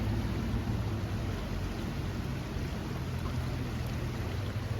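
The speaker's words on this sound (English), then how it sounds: "so peaceful back here as well with the rain coming down and the river roaring down through here" Steady rain falling beside a roaring river at a cabin in the woods, a dense continuous broadband wash that stays even throughout with no voices.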